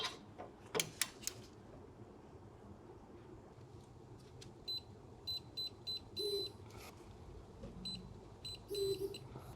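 A digital torque wrench gives a series of faint, evenly spaced short beeps while the brake bolts on an Alfa Romeo Stelvio or Giulia are tightened, along with a few soft clicks and clanks against quiet background noise.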